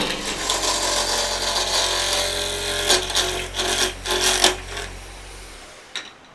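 A wood lathe runs at 1300 RPM with a steady, close low hum and a few rough scraping rubs over it, then the hum cuts out near the end, followed by a single faint knock.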